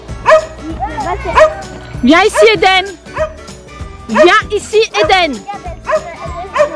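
A dog barks repeatedly, loud and close, while a person calls out to it between and over the barks.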